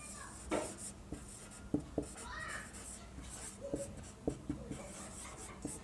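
A teacher writes in a classroom, and a pen or chalk makes soft scratching strokes with a few light taps against a quiet room.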